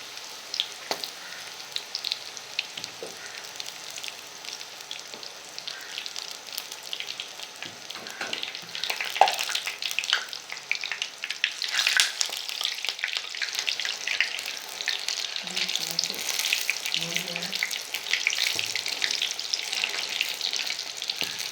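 Spinach leaf pakoras frying in hot oil, a steady close crackling sizzle that swells partway through and continues with no talking.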